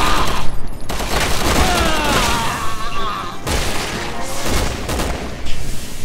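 Heavy gunfire while shooting enemies in Resident Evil 6 co-op, a loud, dense fusillade of rapid shots with booming impacts, continuous over several seconds with short dips between bursts.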